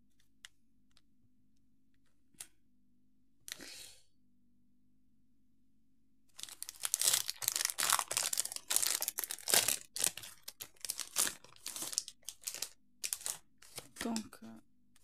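Scrapbook paper sheets from Temu and Shein are handled and crinkled up close, with a few isolated rustles at first, then a long stretch of loud, rapid crackling and shuffling of paper.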